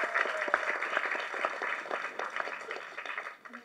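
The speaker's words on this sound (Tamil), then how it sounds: "கைத்தட்டுங்க அவங்களுக்கு." An audience at a movie audio launch held at a school claps continuously, a bright, busy patter of many hands at moderate volume for a few seconds.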